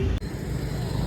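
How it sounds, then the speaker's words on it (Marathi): A car pulls up in a village in the Konkan countryside, a steady low engine rumble close by with a brief dip partway through, no voices. "आली गाडी आपली."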